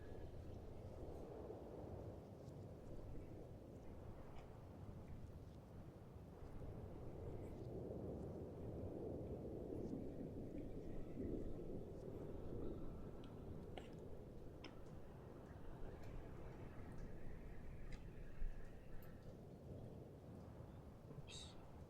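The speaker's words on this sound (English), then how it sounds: "I hope my moody thunderstorm is coming through okay." Continuous low rumbling thunderstorm with steady heavy background noise, deep thunder rolls and a wash of rain-like hiss throughout, fairly close and moderately loud with no talking.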